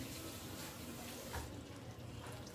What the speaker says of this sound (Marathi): अर्धी वाटी अर्धा कप पाणी ओतते।